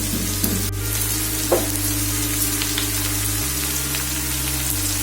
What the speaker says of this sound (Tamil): இந்த ஸ்டேஜ்லயே நம்ம அந்த புளிச்சக்கீரையையும் நம்ம ஆட் பண்ணி நல்லா வதக்கிக்கலாம்.